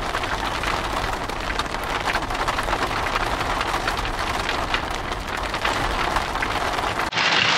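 Steady, dense rain falling in Zion National Park, a continuous close hiss of drops pattering on surfaces that holds loud throughout and cuts out abruptly near the end.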